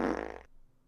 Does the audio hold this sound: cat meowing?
no